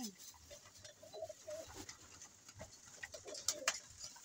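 Pigeons kept by a fancier coo softly in soft, rolling bursts at close range, with light rustling and a few sharp clicks or taps near the end, at a low overall level.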